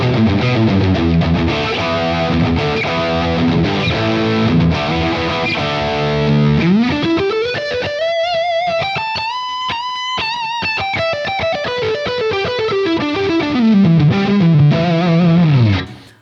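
Distorted electric guitar played through a Friedman IR-X amp model on a Line 6 Helix, loud, steady chugging chords, then a long sustained lead note that bends up and slowly glides back down, with no voices.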